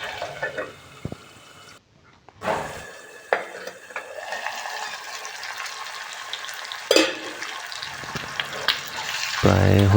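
Broiler chicken gizzard curry cooking in a pan, with soft sizzling and bursts of stirring and scraping, a clatter of a lid or utensil, and gaps of near quiet, all close by.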